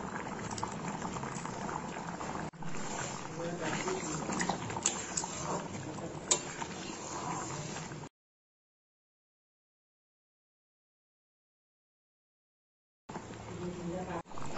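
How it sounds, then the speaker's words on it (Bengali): Chana dal with sugar, ground roasted spices and ghee bubbles steadily in a pot, a continuous close boiling burble that drops to silence partway and then resumes. "ডালটা ভালো মতো ফুটে গেছে"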